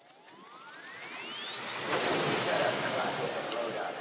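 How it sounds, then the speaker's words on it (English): Shimmering, crystal-like transition effect from a drum kit for a yandere, lilac and ivvY LeaguE style type beat: a rising swept tone climbs into a bright, glittery wash and then sustains at steady loudness. "you're gonna find very like crystally transitions."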